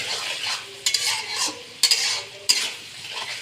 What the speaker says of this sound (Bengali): পেঁয়াজটা কিছুটা ভাজা হয়ে গেছে